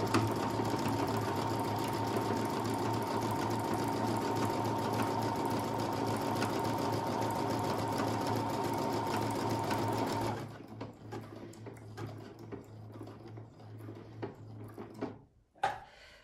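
A Brother Innov-is 200 sewing machine stitches a buttonhole, humming steadily for about ten seconds before stopping. Quiet clicks and handling sounds follow, ending with a sharp knock.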